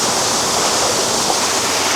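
A waterfall in Davao City gives off a steady, full rush of falling water, loud and close, with no pauses and no voices.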